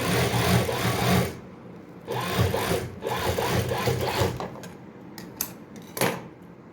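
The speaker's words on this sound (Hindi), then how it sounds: "इस पे हमें वापस यहाँ पे कंकर का बखिया लगाना है ताकि सिलाई बैठे।" A sewing machine stitching a baby frock runs in steady bursts of rapid mechanical whirring, close and fairly loud, stopping and restarting between passes with light handling clatter.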